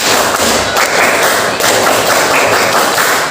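Rhythmic group clapping of the Indonesian scout clap (tepuk pramuka) in a repeating pattern of quick bursts separated by short gaps, loud and crowded, with no speech.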